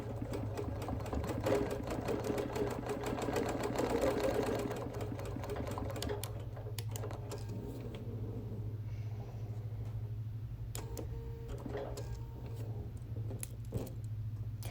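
A sewing machine runs steadily while machine quilting a wool appliquéd quilt, its rapid stitching hum continuous and close, with faint clicks and distant playground sounds in the background.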